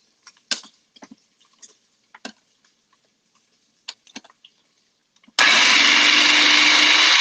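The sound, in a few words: blender pulsing red rice ingredients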